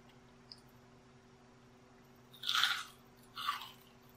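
Crunchy fried enoki mushrooms are bitten and chewed close to the mic: two short crisp crunching bursts, then quiet.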